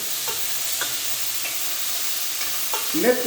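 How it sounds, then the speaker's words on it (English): Mint leaves sautéing in hot oil in a pan while cooking chicken biryani, a steady close sizzle with a few soft stirring scrapes and a brief louder stir near the end. "Give the mint a small saute"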